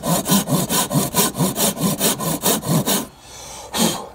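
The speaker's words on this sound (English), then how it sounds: "So what I'm going to try and do is we do something called a cross cut." A hand saw cross cuts a piece of slightly wet wood with about a dozen steady, rhythmic rasping strokes up close, then a short pause and one more stroke.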